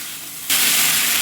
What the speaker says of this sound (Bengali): আগে থেকে ভেজে রাখা সবজি ও 2টি মিডিয়াম সাইজের টমেটো কুচি একই সঙ্গে দিয়ে মশলার সঙ্গে ভালো করে কষিয়ে নেব